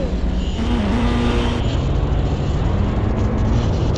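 F1 race car engine at speed during a race, a loud, continuous high-pitched roar that stays steady throughout with a shifting whine on top.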